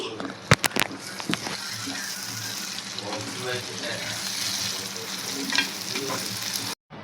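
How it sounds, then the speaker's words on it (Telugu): Ground paste frying in a pan with curry leaves and green chilies, a steady sizzle under stirring and scraping, opening with a few sharp clinks; someone talks over the cooking and the sound cuts off briefly near the end. "కరివేపాకు పచ్చిమిర్చి వేగిన తర్వాత మనం పేస్ట్ గ్రైండ్ చేసుకున్న పేస్ట్ని కూడా వేసుకొని కలుపుకోవాలి"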